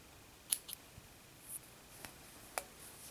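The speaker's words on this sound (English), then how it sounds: "And we're going to snip that off too." Scissors snip off crochet yarn on a poppy flower: a few quiet, close, crisp cuts spaced apart, with small clicks between them.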